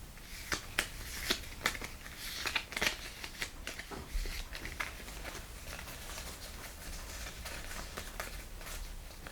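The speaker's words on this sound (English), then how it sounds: "They would hear the sound of shuffling cards" Playing cards are shuffled in a close, quiet setting, sharp riffling bursts and soft flicks coming in clusters early on before trailing into faint rustling.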